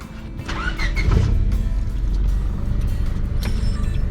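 A 1998 Honda Civic engine cranks and catches just after a spark plug change, then settles into a steady close idle with a brief squeal near the start.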